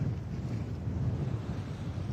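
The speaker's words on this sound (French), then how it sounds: "20 nœuds de vent de travers" Strong crosswind of about 20 knots buffets a sailboat at sea, a steady low roar of wind rushing over the microphone mixed with the wash of water, continuous and fairly loud.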